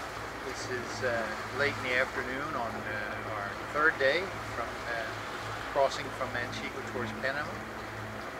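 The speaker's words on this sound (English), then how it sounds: "you can hear there's an engine going in the background" A sailboat's diesel engine running at sea on a passage toward Panama, a low steady drone beneath close speech, with wind and water noise over it.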